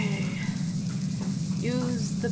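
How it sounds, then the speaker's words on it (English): A power washer sprays water in PowerWash Simulator, a steady hissing gush that runs the whole time while a person talks over it. "Use the power spray."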